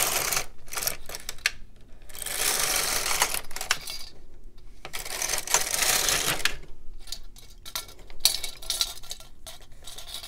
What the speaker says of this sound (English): I knit 3 rows.